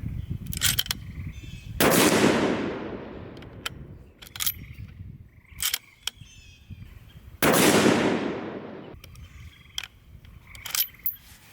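A Ruger M77 Mark II rifle in .22-250 fires factory ammunition, giving two loud sharp shots with long decaying echoes outdoors, amid handling clicks and rattles between them.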